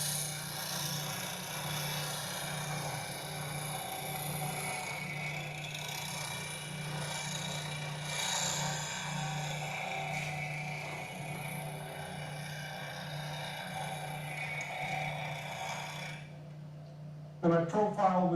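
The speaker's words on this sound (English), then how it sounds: "Bring the grinder back up to speed." A grinder runs steadily while a turning tool is profiled at a two-inch bevel, a continuous humming whine that holds for most of the stretch before dying away, followed by a brief clatter at the end.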